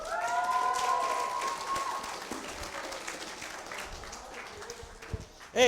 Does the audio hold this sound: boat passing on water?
no